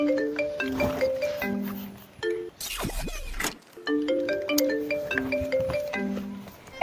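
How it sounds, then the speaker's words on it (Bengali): A mobile phone ringtone plays a repeating melodic pattern of tonal notes at moderate level, with a short break of rustling noise midway before the ringing resumes. "এই ফোনটা কাটবে না, ফোনটা তোলো তো দেখি কে"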